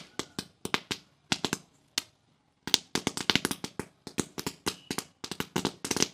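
A ball of 500 roll caps bursting after being turned over during Diwali, a close, loud string of sharp cracking pops in irregular clusters, with a brief pause before a denser rapid volley, no talking.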